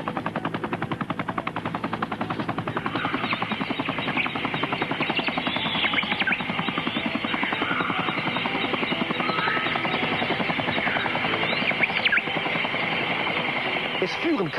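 A helicopter flies over jungle toward the lost city of Buritaca, its rotor chop loud, fast and steady for the whole stretch, with the engine's droning whine layered over the beating blades.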